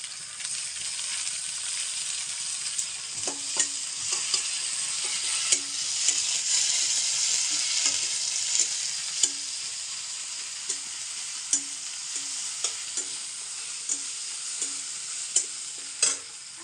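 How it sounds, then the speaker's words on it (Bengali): Chopped onion, chilli and ginger-garlic paste frying in a pan: a continuous bright sizzle with regular spoon scrapes and taps as the mixture is stirred, steady and close. "পেঁয়াজ কুচি দিলাম লঙ্কা কুচি তো আদা রসুন বাটা দিলাম"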